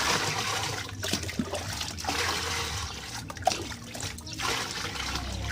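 Laundry being hand washed in a basin of water, with continuous sloshing, swishing and trickling as the clothes are worked by hand, close and steady throughout.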